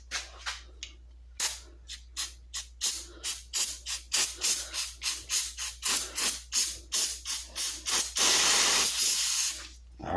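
Brake cleaner sprayed onto a rusty tool in a long series of short, sharp hissing bursts that grow steadier, ending in one sustained loud spray.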